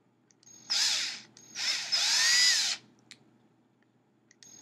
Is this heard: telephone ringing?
no